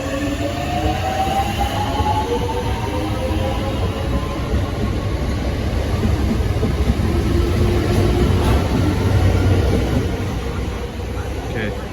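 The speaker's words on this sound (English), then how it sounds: "departing now is the 10:45 southeastern service to London Victoria." A Southeastern passenger train pulls out of Denmark Hill or Peckham Rye bound for London Victoria, a steady loud rumble of wheels and traction with rising whine tones, continuous throughout, with faint voices in the background.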